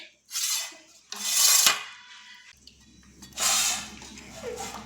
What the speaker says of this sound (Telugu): నీకు అడిగిన గిన్నె